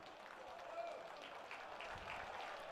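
Crowds on both sides applaud a leadoff home run at an Illinois high school Class 3A baseball championship, a faint, distant and steady patter of clapping.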